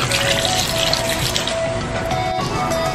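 Water is poured into a cooking pot holding cassava, a steady continuous splashing and trickling fill lasting the whole stretch, close and fairly loud with no talk over it.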